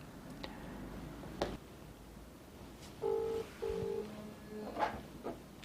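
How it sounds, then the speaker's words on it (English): A Samsung Galaxy A52 in a Smart S View wallet cover rings with an incoming call, a short pair of faint electronic tone bursts among light taps and handling noise in a quiet room. "So you can see here right now there's a call that's coming in"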